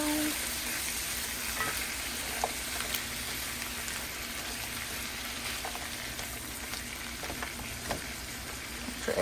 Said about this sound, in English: Go ahead and start stirring around.